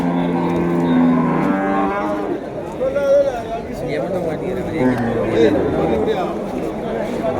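Jersey cattle lowing at a busy rural cattle market in Vaniyambadi, with repeated moos rising over the steady babble of traders and crowd talk nearby.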